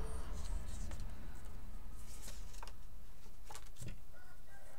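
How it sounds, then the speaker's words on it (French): A rooster crows faintly in the distance, half buried under close rustling and tapping of paper and card being folded and fixed for a pop-up card. "Le coq chante."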